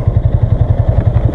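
Yamaha MT-125 petrol motorcycle idling close by, a loud, steady pulsing putter with regular even beats.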